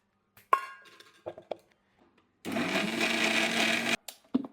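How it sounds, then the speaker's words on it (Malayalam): A mixer grinder whirs for about a second and a half grinding dried shrimp with shallots, set between clinks and knocks of the jar and lid before and after. "ഉണക്കച്ചെമ്മീനും ഉണ്ട് ചെറിയ ഉള്ളിയും ഉണ്ട് ഇത് രണ്ടും കൂടിയിട്ട് അടിച്ചെടുക്കാം"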